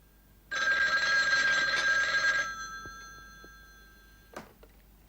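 A telephone bell rings loudly and continuously for about two seconds, then stops, leaving a faint fading tone and a brief knock afterward.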